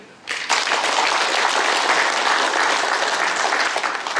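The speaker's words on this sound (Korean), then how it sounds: "우리 너무 고생하신 데는 박수 한번 부탁드립니다." Audience applause fills a hall at a 2013 pledge ceremony for restoring Hogye Seowon, a Confucian academy in Korea, starting after a brief quiet moment and holding as a steady, dense, loud clapping roar to the end.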